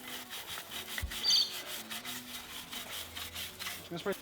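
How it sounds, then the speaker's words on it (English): Steady rubbing and scrubbing on a Toyota 4AG engine part being ported by hand, a close, continuous abrasive scraping with a brief louder burst, while people talk nearby in a garage setting. "Keep scrubbing, Dylan."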